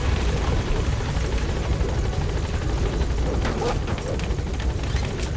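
A support helicopter arrives in the video game Metal Gear Solid V, its rotor a loud, steady, close thumping roar that fills the whole stretch without a break.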